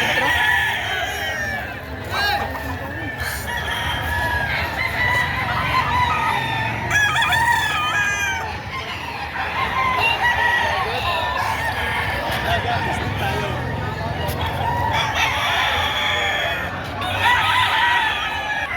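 Several chickens cluck and a rooster crows repeatedly amid a noisy crowd at a livestock market in Padre Garcia, Batangas, with people talking in the background throughout.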